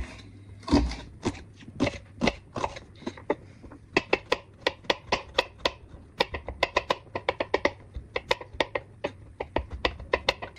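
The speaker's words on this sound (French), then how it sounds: "Donc je vais couper tout ça grossièrement" A knife roughly chops vegetables on a board in a home kitchen, giving a long run of crisp, evenly spaced close taps that speed up toward the end, with a few soft handling knocks at the start.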